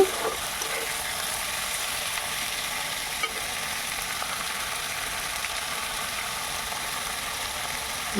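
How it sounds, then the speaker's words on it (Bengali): Goat mutton stirred and fried in a pan gives a steady, moderately faint hiss of sizzling oil throughout, with occasional soft scrapes from stirring. "মাংসটা দিয়ে আমি ভালো করে নেড়ে চেড়ে দিচ্ছি"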